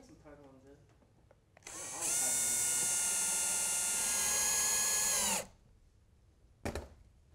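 A power drill drives screws to mount a GE Z-Wave in-wall smart outlet into an electrical box: one loud, steady whirring run of about three seconds, then a brief second burst, with quiet room tone around it.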